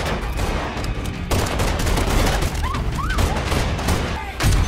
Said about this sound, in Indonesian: Lalu terjadilah baku tembak di antara mereka.